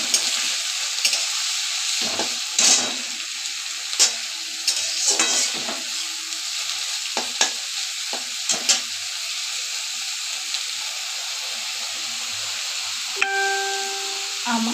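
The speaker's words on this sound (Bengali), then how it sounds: "আর এই দেখো, আমি চিংড়ি মাছটা দিয়ে দিলাম। চিংড়ি মাছটা একটু ভালো করে ভেজে নেব।" Prawns frying in a pan with browned onions give a steady, fairly loud sizzle and hiss, broken by occasional clicks and scrapes of stirring, with no talk.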